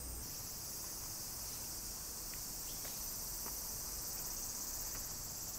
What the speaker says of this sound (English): We're starting to get the cicada bugs.